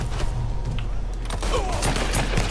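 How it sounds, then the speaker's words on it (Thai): Rapid bursts of gunfire in the video game Mafia III crackle continuously over a steady background hum, dense and fairly loud throughout. "มีเสียงปืน"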